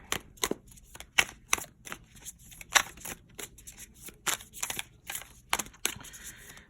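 A deck of tarot cards is shuffled by hand in quick bursts of crisp riffling and slapping, repeated irregularly at close range with no talking.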